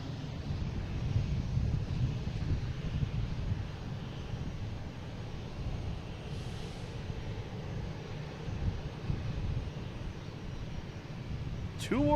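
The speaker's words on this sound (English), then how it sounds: "next taking off, we have a JetBlue heading to Chicago, an A220, flight 811" A JetBlue Airbus A220 taking off from Boston Logan for Chicago: a steady, fairly distant low jet engine roar with some wind rumble, holding even throughout with no talk.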